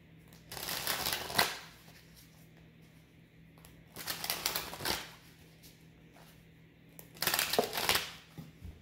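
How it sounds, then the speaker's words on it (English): Tarot cards from a twin flame soulmate hybrid deck are shuffled in three bursts of rapid riffling and slapping, close and fairly loud, with quiet pauses between. "I'm not even done shuffling, but we'll take it"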